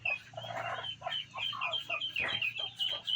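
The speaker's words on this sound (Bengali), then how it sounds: "মুরগিরকে আমরা 10টা ডিম দিয়ে বসিয়ে দিয়েছি।" A brooding hen sitting on a clutch of ten eggs clucks in repeated short, close bursts, with soft murmurs from other poultry including ducks around her.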